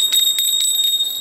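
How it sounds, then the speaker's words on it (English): A bear bell carried for a fishing trip in Japan, jingling with quick repeated high metallic rings, close and fairly loud, alone without talk. "This is true bear bell."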